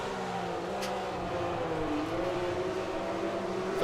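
A Matra V12 race car engine in rFactor 2 drives through Monaco 1966 at steady, continuous volume, with a droning whir and harmonic lines that shift gently as the throttle is fed in. No voice is present.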